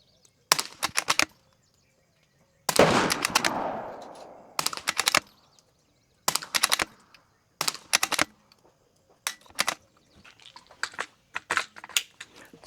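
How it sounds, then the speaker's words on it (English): A Savage B22 Precision rifle fires a 10-shot group: sharp, close cracks spaced a second or two apart, some in quick pairs, with a short ringing decay after one shot and near silence between. "Let's go ahead and put another 10-shot group right next to that one."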